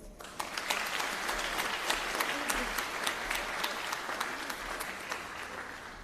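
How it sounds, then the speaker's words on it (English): Sustained audience applause for award winners at a graduation ceremony rolls on steadily for several seconds, a broad wash of many hands clapping with no one speaking over it. "the award winners deserve a bigger round of applause"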